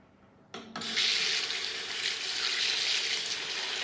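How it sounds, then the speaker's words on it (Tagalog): Tap water switches on abruptly after a brief clunk and keeps running steadily, a close, hissing splash used to add a little water for lathering hair products at home. "Lagyan mo ng konting tubig para mabula."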